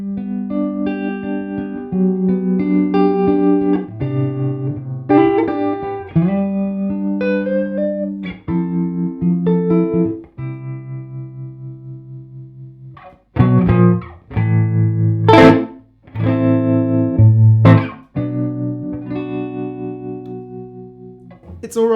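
Fender Broadcaster electric guitar played through a tremolo effect with no reverb, dry and close, chords and single notes pulsing in a steady rhythm with brief pauses between phrases.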